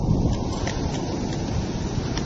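Steady wind buffets the microphone with a broad rushing hiss, and rain patters faintly underneath at a campsite in Great Langdale, Lake District; no voices.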